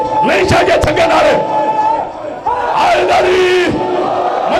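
At a religious gathering at an imambargah, a crowd roars slogans in unison, two loud bursts of many voices separated by a short lull, close and echoing.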